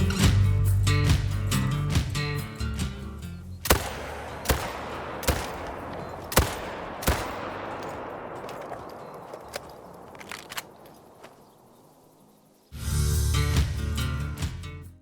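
Hansen 30-06 rifle shots in the hunting game Call of the Wild: several sharp, loud reports spaced a second or so apart, each followed by a long rolling echo, between stretches of louder game sound.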